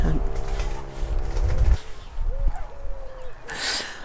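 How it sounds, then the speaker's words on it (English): Wood pigeons and collared doves coo in a garden, soft low hooting calls heard faintly after a burst of louder mechanical or rustling noise, with a brief hiss near the end. "there's a couple of pairs of wood pigeons, and we've also got some collared doves, which are just lovely"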